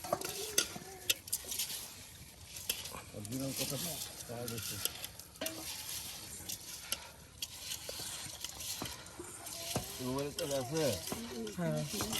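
Spices and oil are stirred together in a pan for a village dal khichuri breakfast, with intermittent scraping and clinking under a soft sizzle while people talk nearby throughout.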